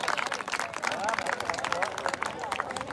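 An audience claps loudly at a tournament gathering, with dense, steady applause and crowd noise filling the whole moment, voices mixed in.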